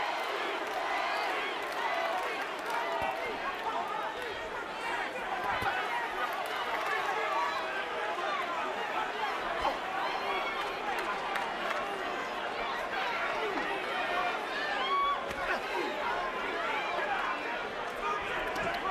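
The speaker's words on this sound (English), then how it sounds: "a lot of the crowd is chanting, Cory, Cory, Cory" A boxing arena crowd at a Jermain Taylor versus Cory Spinks fight keeps up a continuous roar of chanting and cheering, with a commentator's voice running over the noise throughout.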